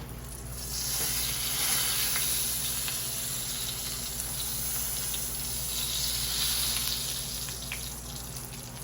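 Fish frying in a covered pan gives a steady, even sizzle that holds constant with a faint hiss of spattering and no talk over it.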